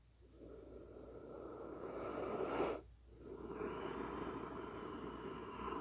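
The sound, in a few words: deep breathing during yoga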